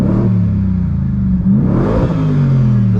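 A 2023 Ford F-150 Raptor R's 700 hp supercharged engine revs in neutral with the exhaust in Baja mode, a loud, close, deep roar that climbs in pitch, dips, and rises again before settling into a steady high growl.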